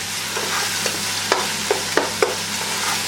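Ground onion fries in a pan with a steady, dense sizzle, broken by a few sharp clacks of a spoon stirring against the pan. No voices.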